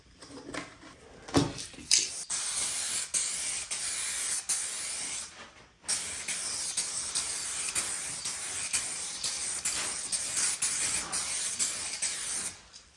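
Spray paint hisses onto an RC snowmobile headlight assembly in two long bursts, the first starting with a few short taps, separated by a brief pause, close and steady.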